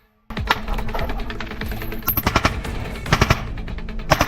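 Rapid bursts of gunfire crackle close by, a dense stream of sharp shots that grows louder and more clustered toward the end.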